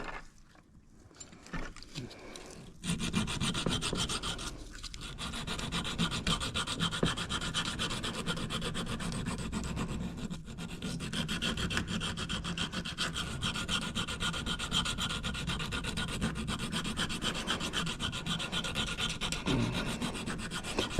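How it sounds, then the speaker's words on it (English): Steady abrasive sanding of an RC propeller blade, continuous and fairly loud, a rough rubbing scrape over a hard surface that begins after a few quiet seconds and runs without pause. "take a little bit more off the back side, making it a little bit lighter"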